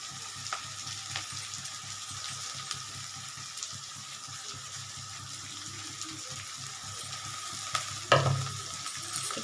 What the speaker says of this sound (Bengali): দেখো পেঁয়াজটা আস্তে আস্তে ভাজা হচ্ছে